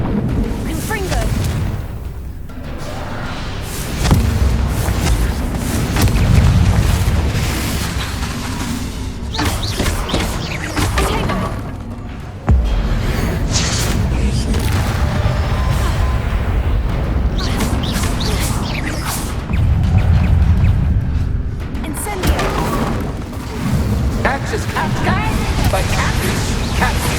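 A Confringo fire spell explodes in Hogwarts Legacy, heavy rumbling booms rolling under a continuous dense game soundscape with character speech mixed in.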